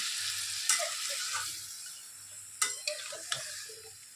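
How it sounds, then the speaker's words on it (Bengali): Drumstick, potato and pumpkin curry sizzles softly in a pan as water goes in, a low hiss with occasional spatula scrapes and light pan knocks. "তো এখন আমরা দিয়ে দিচ্ছি একটু জল, কেননা ডাঁটা, আলু, কুমড়ো সব সিদ্ধ হতে হবে।"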